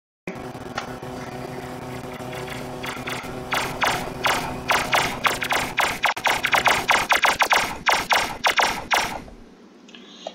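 Gunfire in the Roblox game Livetopia: a rapid series of sharp mechanical cracks that thickens into dense repeated bursts over a steady hum, then stops abruptly.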